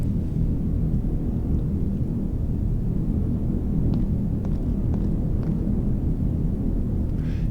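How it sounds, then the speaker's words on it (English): A storm in the Heat Death survival train game gives a continuous, heavy low rumble of thunder and wind with a few faint crackles above it. "There's a storm raging outside."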